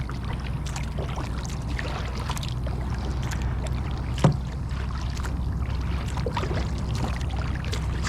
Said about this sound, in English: It doesn't take as much effort to paddle right here.